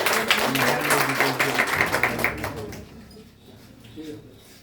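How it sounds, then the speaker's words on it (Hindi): Loud applause from an audience at a toppers' honour ceremony, dense clapping for a guest that fades out after about three seconds, leaving a quieter room with faint voices. "दिनेश जी के लिए एक जोरदार ताली हो"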